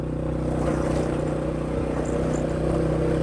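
A motorbike climbing a steep mountain road in Nan, Thailand, its engine a steady low labouring drone in low gear, with wind noise over it.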